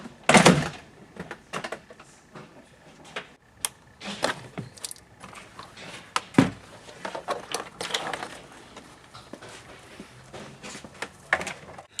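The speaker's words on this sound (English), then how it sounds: "I'm going to go ahead and take the panel off the driver front door." A car's driver-side front door panel is pried off, giving scattered plastic clicks, snaps and rattles with sharp pops at irregular intervals and quieter handling noises between them.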